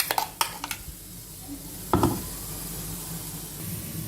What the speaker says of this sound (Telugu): ఇప్పుడు ఈ పచ్చడిని ఇలా గిన్నెలోకి తీసేసుకుందాము.